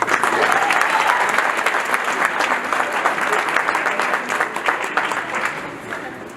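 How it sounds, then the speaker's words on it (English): A banquet audience for a marching band and color guard gives a sustained round of applause, dense steady clapping with a few cheers mixed in, holding loud throughout and easing slightly at the end. "So, round of applause, please."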